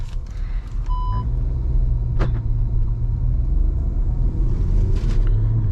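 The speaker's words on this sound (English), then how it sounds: "2-liter turbocharged petrol TSI with 7-speed DSG. We have slotted it into sport mode" A 2-liter turbocharged petrol TSI car with a 7-speed DSG in sport mode gives a loud, steady low rumble from inside, with brief beeps early on and no talk.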